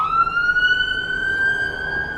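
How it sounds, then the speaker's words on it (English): An ambulance siren going by outside a park, a single sustained wailing tone that rises slightly in pitch and holds steady, moderately loud and unaccompanied by talk. "Ambulance."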